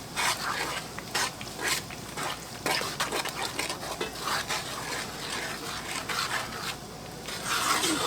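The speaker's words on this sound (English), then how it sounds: "Get my sugar stirred in." A spoon stirs sugar into peach preserves in a pot, giving close scraping and rubbing strokes in an uneven rhythm that rise and fall in loudness, with no voices.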